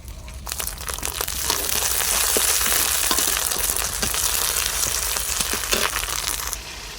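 Spices with green chili sizzle and crackle steadily in hot oil, a dense close frying hiss with occasional clicks of stirring.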